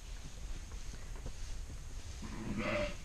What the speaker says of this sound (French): vous avez un lot de brebis avec des agneaux à droite ici et un autre lot de brebis avec des agneaux à gauche